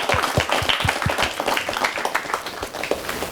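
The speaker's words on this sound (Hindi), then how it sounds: "एक बार फिर से जोरदार तालियां।" Audience applause for award-winning children at the Pradhan Mantri Rashtriya Bal Puraskar 2019 ceremony, a dense, steady crowd clapping that stays loud throughout without speech.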